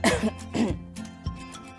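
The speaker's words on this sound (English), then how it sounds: "I just coughed" A single short cough followed by a second, softer throat-clearing cough, close and loud, then quiet.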